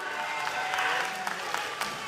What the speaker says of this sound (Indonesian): Hadirin silakan berikan tepuk tangan untuk para paslon.